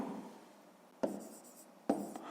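Pen or pencil writing by hand on paper during a math lesson, soft scratching strokes with two sharper taps, quiet and close, with no talking.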